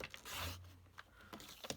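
Cardstock being cut for a handmade card, with a close, quiet rasping slide of a blade through paper followed by a few short scraping strokes.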